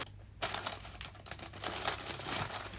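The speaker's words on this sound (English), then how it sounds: "I wrap them in a candy stripe bag and I seal it up with my stickers" A plastic candy stripe bag crinkles close up as an item is wrapped and sealed with stickers, making dense, rustling crackles that keep going after a sharp start.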